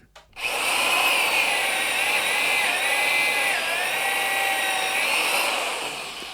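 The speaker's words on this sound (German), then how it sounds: "jetzt nehme ich die Rädchen ab und schraube sie hier wieder an" A power screwdriver or drill whines steadily for several seconds, close and loud, while wheels are taken off a small roller board and screwed back on, pitch wavering slightly under load.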